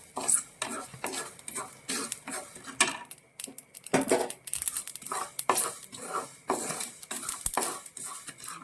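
Fenugreek seeds, about four spoonfuls, being roasted in a pan for a homemade bitter gourd pickle, stirred with a spoon that scrapes and clinks against the metal in irregular bursts, close up, with no talking.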